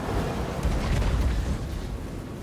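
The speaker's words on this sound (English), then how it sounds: "Let's watch the gruesome Hell Cannon volleys. A triple Hell Cannon volley." Hell Cannon volleys explode in the video game Total War Warhammer 2, striking dwarf troops with a dense, continuous rumbling boom and crackle, loud and without any talk over it.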